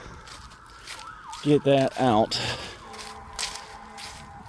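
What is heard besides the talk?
emergency vehicle sirens heard while hiking in the woods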